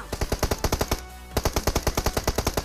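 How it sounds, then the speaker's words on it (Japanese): Automatic gunfire in the mobile battle-royale game PUBG Mobile, two long rapid bursts of sharp evenly spaced shots, loud and close, broken by a short pause in the middle. "来いよと言わんばかりのこの銃声。"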